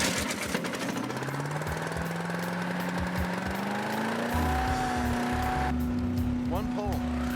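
A Harbor Freight wood chipper's small gas engine is pull-started and catches, rising into a steady running drone, with a person talking over it.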